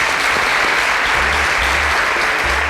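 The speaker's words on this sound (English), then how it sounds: "Round of applause for him," Audience applause at a televised youth talk show episode, a loud, dense wash of clapping that continues steadily throughout, close and full, with no speech over it.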